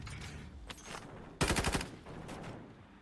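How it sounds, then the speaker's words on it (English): Burst of automatic gunfire in the mobile shooter game Warzone Mobile, a loud rapid string of shots lasting about half a second amid softer game ambience and scattered distant pops. "I think he was just testing out his gun."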